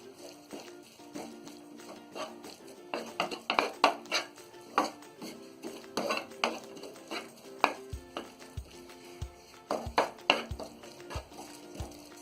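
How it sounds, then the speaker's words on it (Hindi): Chinese bhel of crispy noodles and vegetables is tossed with salt in a dish, making irregular clinks and scraping taps of a utensil against the bowl, quiet and close, with rhythmic knocks later on. "सारी चीजों को हम अच्छी तरह मिक्स कर देंगे।"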